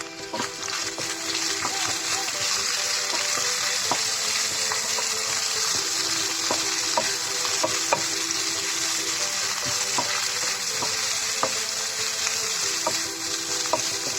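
Onions fry in a pan for chicken curry, giving a steady close sizzle with occasional crackles and soft stirring clinks throughout.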